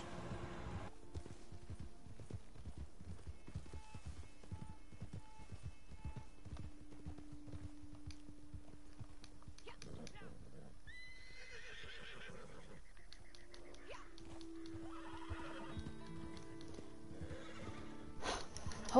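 Horse hooves clop in a steady, quick walking rhythm, fairly faint, broken by several whinnies and snorts in the second half, with a soft tonal hum in the background and no talk.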